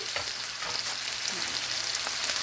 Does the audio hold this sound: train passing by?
no